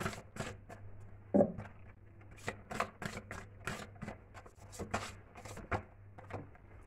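A deck of love cards shuffled by hand close up, with a quick series of soft papery riffles and taps and one sharper snap, over a faint steady low hum.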